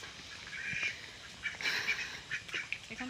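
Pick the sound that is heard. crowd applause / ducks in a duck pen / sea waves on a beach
ducks in a duck pen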